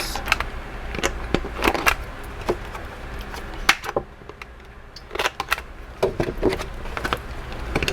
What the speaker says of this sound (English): We're going to come back with our corner rounder again. 1/2 inch. And round these corners.